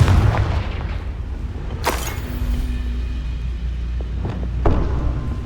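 A Confringo fire-blast spell explodes in the Hogwarts Legacy video game, a sharp loud burst near two seconds standing out against a constant rumbling game backdrop, with two fainter thuds near the end.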